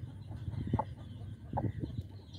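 Hens clucking nearby in a small backyard flock, a few short low clucks scattered irregularly over a quiet background.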